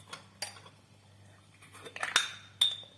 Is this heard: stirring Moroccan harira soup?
yes